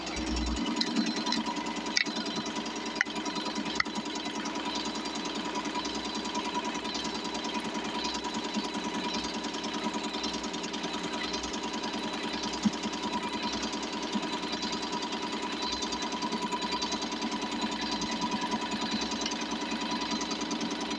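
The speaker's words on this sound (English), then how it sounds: "I'm just gonna go ahead and let the whole thing stitch out and record it" Tajima embroidery machine stitching a design onto baby onesies, a steady rapid mechanical chatter of needle strokes running continuously at moderate level, with occasional sharp clicks near the start.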